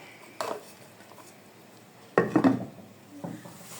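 A metal lid clatters onto a cooking pot of sweet potato halwa, with a light knock first and then a louder scraping clank as it settles.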